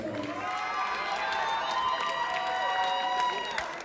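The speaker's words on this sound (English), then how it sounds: "Give them a round of applause." After a Muay Thai bout at an IFS fight event in Anaheim, a crowd claps and cheers for the two fighters, a continuous roar of voices and applause heard at some distance throughout.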